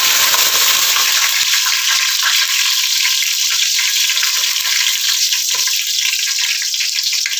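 Cinnamon, cardamom, pepper and cloves sizzle in hot oil in a pan, a loud, close, constant crackling hiss with occasional small pops.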